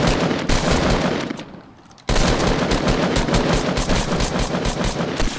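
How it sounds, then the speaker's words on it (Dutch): A green assault rifle in Fortnite fires in loud, rapid bursts of gunfire, a dense stream of shots broken by a brief pause before the firing resumes just as fast. "Oh, ja, ik ben aan het schieten, man."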